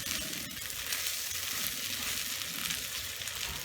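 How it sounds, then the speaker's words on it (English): Fluffy eggs and leftover potatoes being stirred together in a hot frying pan, a steady close sizzle with faint scraping throughout, no talking. "We're just gonna mix all this together."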